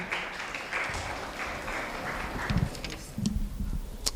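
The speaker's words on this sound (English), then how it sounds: "Can we please give her a round of applause?" Applause from an audience welcoming a speaker at a research chair event on language, identity and justice, a soft, steady patter of many hands, somewhat distant, with a few sharper claps standing out near the end.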